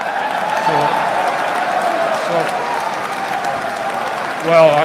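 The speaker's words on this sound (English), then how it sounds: "What are you clapping for" Audience applause heard as a steady wash of clapping under a voice that speaks throughout, with a louder vocal burst near the end.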